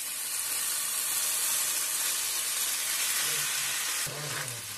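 Atta noodles go into a pan of fried vegetables and hit a loud, continuous sizzle and hiss, with a brief stirring scrape near the end, heard close up.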